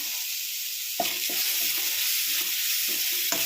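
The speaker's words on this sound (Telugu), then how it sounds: "ఇదైతే కొంచెం ఫ్రై అవ్వాలి" Grated carrot frying in a pan for tomato rasam, a steady close sizzle with a few scraping stirs of a spoon mixed in and no talking.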